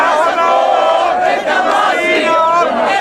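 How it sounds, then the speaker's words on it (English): A huge, excited crowd at a revolution rally in Egypt roars continuously, with many voices singing and shouting slogans together in a dense, close, loud wall of sound. "It's a roar of sound because everyone's so excited and they're singing songs of the revolution"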